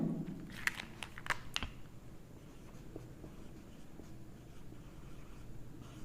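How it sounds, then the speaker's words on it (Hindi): Chalk or pen writing on a board during a lecture, a few quick scratchy strokes near the start, then a softer scraping that fades under a steady room hum, close but faint, with no voice. "मैं परिभाषा लिख देता हूं"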